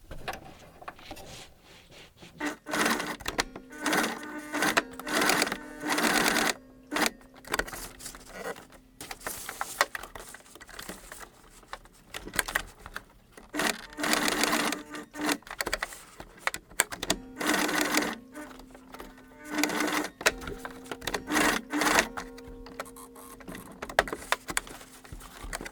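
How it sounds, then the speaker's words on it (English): A sewing machine runs in repeated bursts of rapid mechanical stitching, close and loud, pausing briefly between runs. "I'm using a straight stitch here on my sewing machine"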